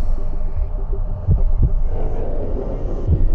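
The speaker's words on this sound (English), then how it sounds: "their heartbeats will increase." A heartbeat sound effect in a short film: a few deep, soft thumps pulse over a steady low hum, close and fairly loud, with no speech.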